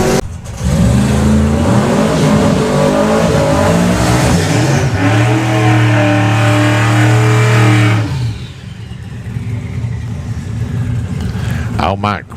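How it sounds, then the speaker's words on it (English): Drag racing cars, among them a 57 Chevy and a Volvo street car, roar down the strip at Santa Pod Raceway. Loud, close engine noise rises in pitch through the gears and then fades away, with a commentator talking over it. "Al Mack with Evolution going alongside Rob Slater with Code Red"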